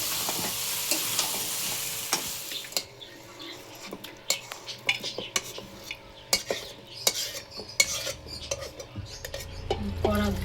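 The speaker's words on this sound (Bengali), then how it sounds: "এর মধ্যে আলুগুলো একটু মশলাটা মাখিয়ে নিই" Potatoes being stirred into a sautéed mutton spice mix in a pan for mutton curry, with steady sizzling and repeated scraping clicks of a spoon against the pan, close and fairly loud with no talk.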